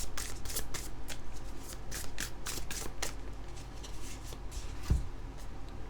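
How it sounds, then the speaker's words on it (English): Tarot cards are shuffled and drawn in a steady run of crisp riffling flutters, close and fairly loud, ending in a single sharp tap near the end, with no voices. "Let's draw 1 more card on top of that consistency card."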